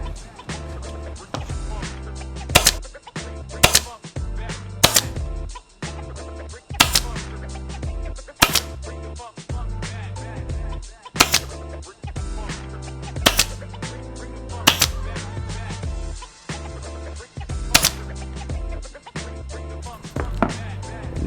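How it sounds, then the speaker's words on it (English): A staple gun fires repeatedly into a fabric seat cover on a Super 73 Z/ZX electric bike: sharp, loud single snaps spaced about one to two seconds apart over a steady tonal background. "push with your staple gun at the same time to get that nice and tight around these corners back here"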